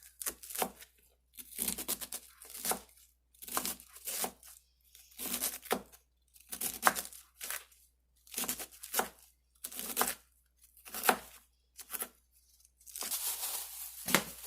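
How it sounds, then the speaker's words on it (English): Half a cabbage chopped into small pieces with a knife on a cutting board for gyoza filling: bursts of rapid crisp chops and crunchy tearing, repeated in short runs with brief pauses, close and fairly quiet. "Then you want to just chop it up into small little pieces"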